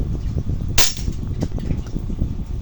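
A Tokyo Marui MWS MK16 gas airsoft DMR fires a single sharp, close crack during a chronograph test, standing out briefly above steady background noise.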